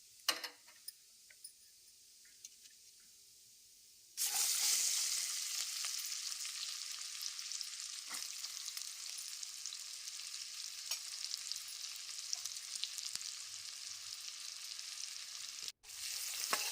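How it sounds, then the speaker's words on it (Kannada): Onion sizzles in hot oil with cumin, bay leaf and cinnamon for a dhaba-style egg gravy, a steady bright frying hiss that begins abruptly after a quiet start and holds loud and continuous, with a few faint ticks. "ಈರುಳ್ಳಿ ಸಾಫ್ಟ್ ಆಗೋ ತನಕ ಎಣ್ಣೆಯಲ್ಲಿ ಹುರ್ಕೋಬೇಕು"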